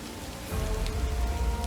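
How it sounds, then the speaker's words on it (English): Steady rain pours down in the Total War: Pharaoh strategy game, a dense hiss of drops on surfaces that swells louder after the first half second and holds constant, with no talk over it. "It's raining."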